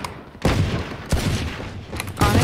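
Rapid Sheriff pistol shots ring out in a ten-player deathmatch video game, coming as several loud, sharp bursts spread over a couple of seconds.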